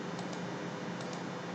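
A few faint, quick key clicks on a computer keyboard as the T key is pressed, arriving in two small pairs over a steady background hiss.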